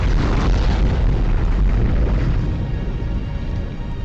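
Napalm explosions in a jungle war film scene produce a loud, continuous low rumble and roar that rolls on without gaps, slowly easing toward the end.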